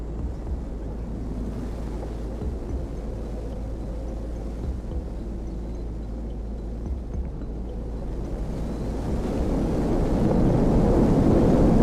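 Steady low wind roars without a break through a Roblox horror game while a player walks outside near a strange door standing in the open, growing louder and fuller toward the end with no voices.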